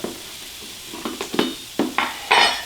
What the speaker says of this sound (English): So you just cook it really long enough to warm up that rice.